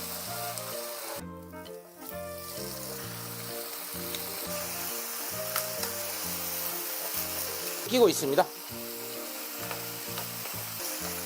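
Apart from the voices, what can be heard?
marinated LA galbi beef short ribs sizzling on grill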